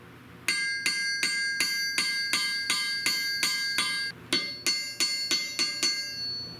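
A six-penny nail is hammered flat on metal: a steady series of sharp, ringing blows, about nine evenly spaced, a brief pause, then five or six more, close and loud with no talk.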